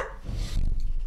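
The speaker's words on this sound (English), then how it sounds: "Why are you barking?" A pet dog named Chewy barks indoors while a video game is being played at home, a short close bark or two sounding loud and alone with no speech over it.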